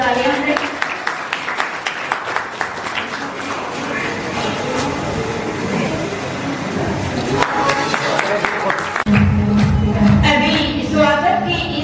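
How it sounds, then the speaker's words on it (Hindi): Children applaud loudly at a school retirement farewell ceremony, a dense, continuous clapping that swells toward the end while a voice talks over it. "सभी बच्चे जोरदार तालियां हैं।"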